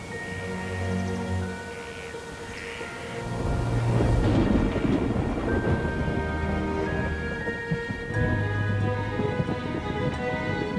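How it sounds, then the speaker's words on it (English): A summer thunderstorm with rolling thunder and steady rain, a deep rumble building and lingering under the rain's hiss, heard beneath gentle background music. "the young animals will experience their first storm."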